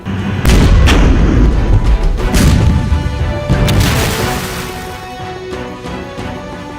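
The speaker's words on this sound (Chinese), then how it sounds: "西步兵各战车车载火力实施拦阻射击，将渡轮阻滞于安七江江面" Heavy artillery and vehicle-mounted gunfire from infantry fighting vehicles firing on ferries at a river crossing during a military exercise, with repeated loud booms and crashes that rumble on and slowly fade.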